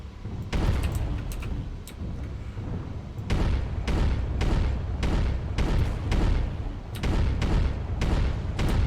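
Repeated heavy booms and blasts from incoming missiles strike a battle mech in the MechWarrior game, landing every half second or so over a steady low rumble, loud and close.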